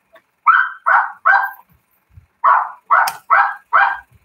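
Several dogs in a kennel bark at a nearby cat, giving three loud close barks, a pause, then four more in a quick rhythm.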